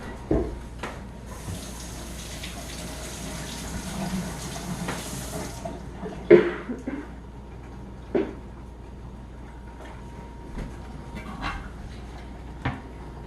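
Water runs from a kitchen tap as a tomato is rinsed in the sink, a steady hiss for the first few seconds, followed by sporadic knocks and clatters.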